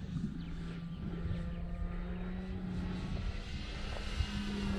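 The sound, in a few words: Great Avios Grand Tundra model airplane flying low pass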